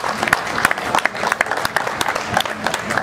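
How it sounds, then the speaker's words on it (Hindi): An audience at an opening ceremony claps steadily and densely throughout, a continuous wash of hand claps with a faint murmur of voices beneath. "उनके लिए हम भरपूर तालियां बजाकर उनका शुक्रिया अदा करेंगे।"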